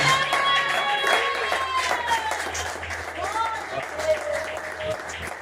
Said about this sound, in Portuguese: Você pode aplaudir mais forte nessa noite, em nome de Jesus, irmão?